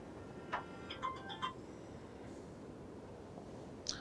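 A phone ringtone plays a brief run of electronic notes, fairly faint, then fades into quiet background hiss.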